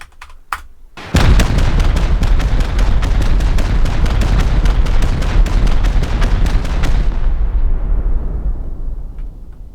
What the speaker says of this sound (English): Let's pump some rockets into that.